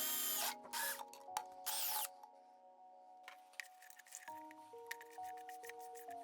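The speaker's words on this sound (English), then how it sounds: "I drill a 10mm hole" Short bursts of a high-pitched power drill whine drilling a 10mm hole in a backplate, stopping and starting, followed by quieter tonal whirring and faint clicks.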